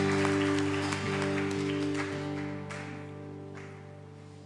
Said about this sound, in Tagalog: Muli pong palakpak para sa ating Panginoon